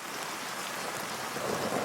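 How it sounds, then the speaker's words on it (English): Light rain falling outdoors as a steady, even hiss of fine drops, moderately close and continuous with no voices, growing slightly louder toward the end. "Oh no, it started raining a little bit."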